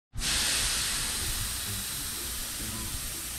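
Air hisses steadily out of a motorized bicycle tire as it is deflated, a loud continuous broadband rush starting abruptly and holding nearly level, alone with no talk.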